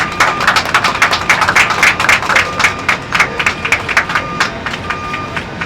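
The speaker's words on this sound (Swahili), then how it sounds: "Haya, makofi mabibi na mabwana." Dense, steady applause from an audience fills a ceremony celebrating World Maritime Day in Kenya, a close, loud clatter of many hands that eases slightly toward the end.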